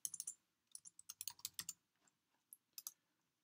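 Typing on a computer keyboard, quick close clicky keystrokes in short bursts with small pauses between them, alone in a quiet room.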